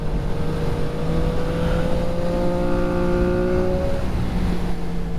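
CF Moto 675SS sport bike engine running at low RPM, a steady close drone with a brief mild rise in pitch, under constant wind noise.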